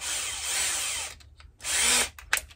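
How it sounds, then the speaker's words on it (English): A power drill with sharp Snap-on drill bits bores into metal in a garage during an oil catch can install on a Subaru Sambar, giving two loud sustained whining bursts separated by brief pauses and small clicks, close and alone. "All right, so trusty snap-on drill bits,"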